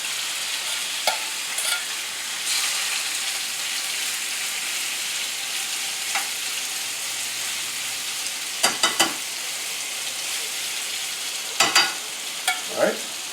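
Olive oil sizzling in a pan on a stove: a soft, steady hiss throughout, with a few brief clinks and scrapes of utensils, moderately close and fairly quiet.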